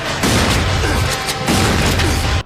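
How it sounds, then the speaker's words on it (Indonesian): Dense gunfire in a film shootout scene fills the moment, loud and continuous, with booming crashes layered into a harsh wall of noise, and no voices. "Di sini terjadi adegan tembak-tembakan"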